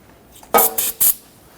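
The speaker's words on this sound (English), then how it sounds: "give it a spray with some solvent and clean that up" Solvent is sprayed onto the oil pan of a 1992-1996 Toyota Camry 2.2L I4 engine in three quick, loud hissing bursts from an aerosol can.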